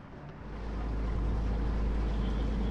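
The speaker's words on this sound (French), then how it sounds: "on allume le moteur et on se casse." A boat's motor starts while leaving Toulon and settles into a loud, steady low drone that swells over the first second and then holds constant, with wind buffeting the microphone.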